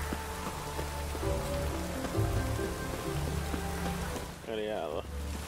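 Steady rain pattering in The Witcher 3 video game, a soft continuous hiss heard beneath low tonal game music, with a brief rising tonal effect near the end.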